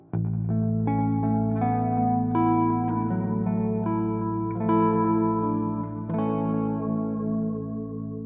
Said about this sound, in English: what I like to do with bass 6 is drown it in delay and reverb